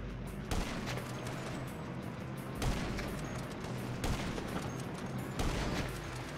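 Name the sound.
gunfire, from the video game GTA V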